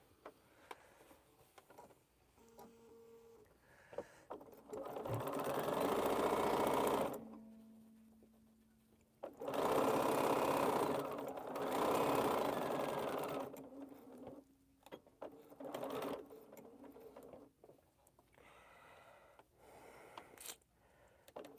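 A sewing machine stitches quilt fabric in two sustained bursts of steady, close mechanical whirring, separated by pauses with light handling noises and no talk.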